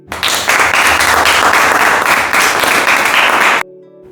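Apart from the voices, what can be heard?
children applauding for Arjun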